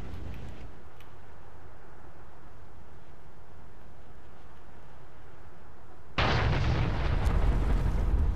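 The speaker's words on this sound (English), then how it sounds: "I'll just drop my bombs and try to hit that target." Aircraft bombs exploding in the War Thunder video game: a steady engine drone continues until a sudden loud, broad blast rush hits near the end and rumbles on.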